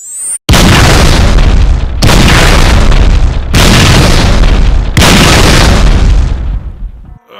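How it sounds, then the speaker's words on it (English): Plasma grenade explosion in a Warhammer 40k Necromunda dub: a very loud, close blast set off by a sharp crack, followed by four long, roaring booming surges in succession that fade away at the end, with no talk. "Oh, shit, look out, he's got a plasma grenade."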